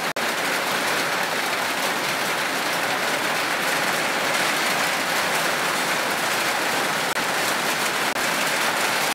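Steady rain falls and patters continuously on a surface, a dense even hiss that stays constant throughout with no voices over it.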